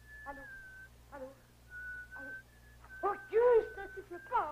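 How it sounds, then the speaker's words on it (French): A man named Auguste whistles a sad tune in a stage play, with several short sustained notes and pauses, then a more wavering passage near the end mixed with a voice, all fairly soft over a low steady hum. "ne siffle pas, voyons"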